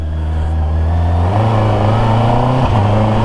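Engine of a 2025 Honda CBR650R E-Clutch motorcycle idling steadily, with a brief dip and clunk as it is put into gear without using the clutch lever, then settling back to a smooth idle close by.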